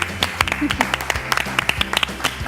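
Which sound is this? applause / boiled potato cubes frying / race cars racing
applause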